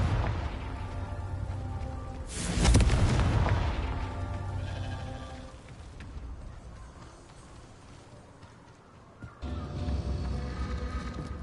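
A Confringo spell detonates in Hogwarts Legacy, a single loud boom with a burst of noise that rolls off slowly, set against a continuous game soundscape that dips and then returns.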